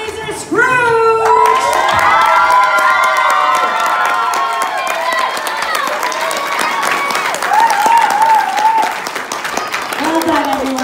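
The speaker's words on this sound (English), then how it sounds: "Let's give them a huge round of applause." Audience at a children's Christmas Carol play bursting into loud applause with high-pitched shouts and cheers from kids, dense clapping swelling quickly and continuing with voices calling out over it.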